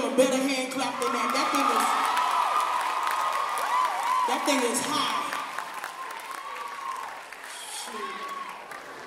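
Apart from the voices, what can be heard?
audience hand clapping and cheering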